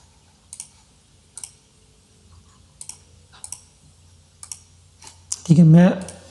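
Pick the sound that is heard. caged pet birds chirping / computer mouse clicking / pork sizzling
computer mouse clicking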